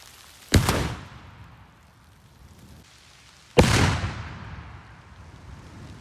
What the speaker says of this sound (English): let's go ahead and touch our cannon off